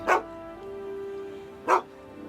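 A dog gives two short sharp barks about a second and a half apart, fairly close, with a steady tonal hum between them.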